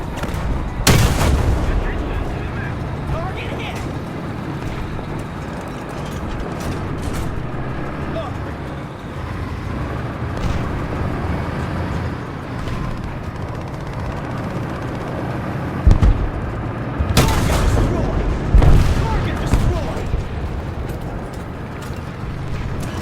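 Tank cannon fire in the War Thunder video game, a couple of heavy booming shots standing out over a steady rumble of engine and battle noise, with someone talking throughout.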